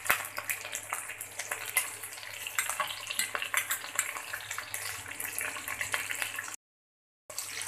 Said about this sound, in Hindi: अभी मैं इसमें राई डाल रही हूँ।